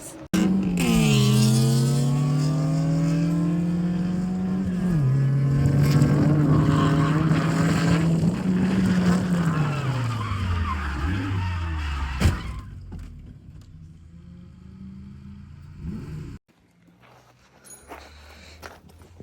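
Drift car at a drifting event, engine revving hard with a rising and falling whine and tyre noise for about twelve seconds, then a sudden sharp crash impact followed by quieter scraping and rumble.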